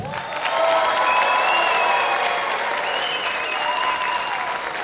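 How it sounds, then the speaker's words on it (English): Audience cheering for Team Red at a dance competition, a loud, sustained roar of clapping with whoops and shouts rising over it, continuous and close. "and then you cheer"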